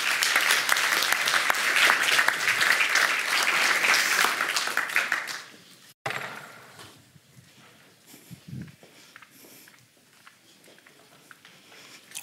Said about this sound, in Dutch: En ik nodig u uit om een warm applaus te geven aan Trudy de Huf.